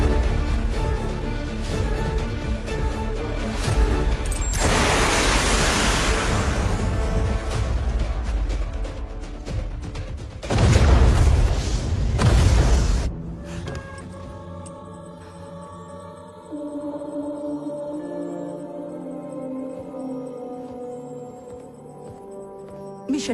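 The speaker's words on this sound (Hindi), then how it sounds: "सॉरी सर, मिसाइल लॉन्च हो चुकी है। 30 सेकंड में धमाका हो जाएगा।" A missile blast in an action heist film: loud broadband bursts around 5 and 11 seconds over rumbling low end, then fading into sustained tonal music and ambience with no talk.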